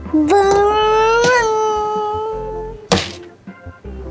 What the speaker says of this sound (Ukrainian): Б'є стіл, розбиває будинки.